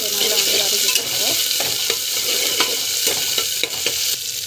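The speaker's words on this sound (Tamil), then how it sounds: "ஸோ இஞ்சி பூண்டு பேஸ்ட்டு ஸோ நல்லா வந்து வதக்கிட்டுருங்க" Ginger garlic paste sautés in a pan with a steady, close hiss of frying and repeated scrapes and taps of a spoon stirring it.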